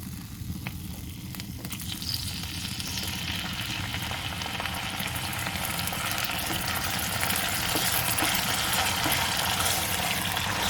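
Chicken pieces frying in two to three spoonfuls of cooking oil, giving a steady, close, dense sizzle with occasional crackles and soft stirring throughout, no voices.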